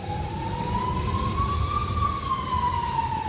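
A steady wailing ambulance siren slowly rises and falls in pitch, loud and close, over a rumbling street traffic background.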